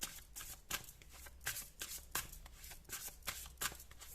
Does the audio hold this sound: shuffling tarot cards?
yes